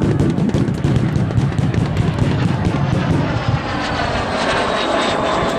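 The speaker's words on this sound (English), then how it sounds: "And here she comes for a strafing run now," A MiG-15 jet fighter makes a strafing run at the Southport airshow. A loud, close, continuous engine roar with a rough, crackling rumble holds throughout and eases slightly as it passes, with no voices.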